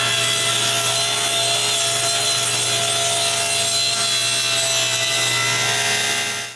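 Table saw ripping an apple wood board, a loud sustained whining cut with a steady motor hum and rasping blade noise, fading out as the cut ends.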